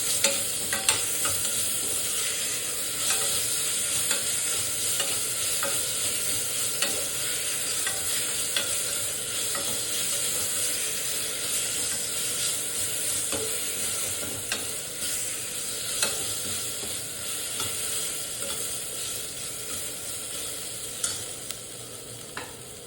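Onion and ginger-garlic paste fry in a pan for mushroom biryani, with a steady sizzle throughout and frequent scraping stirs of a spoon against the pan.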